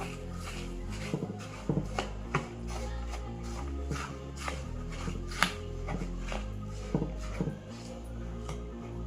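A dry snack mixture being mixed with dal by hand: soft, faint crunchy rustles and scattered taps, quiet and close, with no talking.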